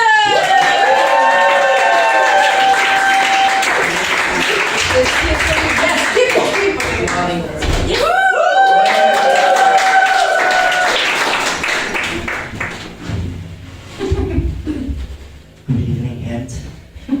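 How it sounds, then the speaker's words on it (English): Audience clapping for a comedian at a stand-up comedy try-out night, dense and steady over music for about twelve seconds, then thinning into scattered claps with faint voices near the end. "Give a big hand of applause for Marlies Verschuren."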